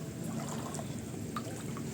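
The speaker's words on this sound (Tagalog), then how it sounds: "Lumalakas yung ulan mga viewers." Rain falls at the seashore, a soft steady hiss with faint scattered drips and trickles, quiet and without talk.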